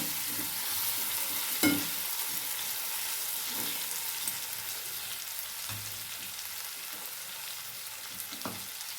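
Eggplant pieces fry in oil while being stirred and turned, a constant close sizzle broken by several sharp scraping knocks of a utensil against the pan, with no voices.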